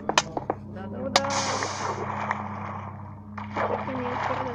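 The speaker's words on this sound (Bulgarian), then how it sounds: "Виж, водата." Water sloshes and splashes steadily in Minecraft, recorded from a phone, with a continuous watery rush under sharp clicks and voices talking.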